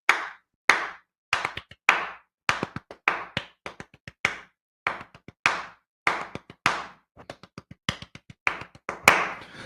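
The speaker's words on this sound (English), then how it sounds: "I'm going to clap it, but I would actually pat it on my legs." Body percussion for a tika-tika rhythm lesson: sharp, close handclaps alone, struck in a steady patterned rhythm with quick double and quadruple groupings between single beats, each clap crisp and loud against silence.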